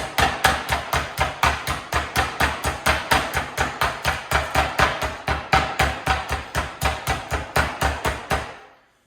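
Meat is pounded flat for a German dish with a mallet, about thirty loud, sharp thuds struck in a fast, even rhythm at close range, continuing without pause until stopping at the end.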